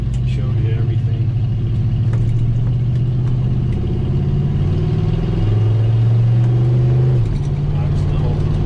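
A 1978 Ford Bronco driving on a bouncy, bumpy road, its engine droning steadily with pitch shifts and a gear change near the end, plus faint rattles and knocks from the ride.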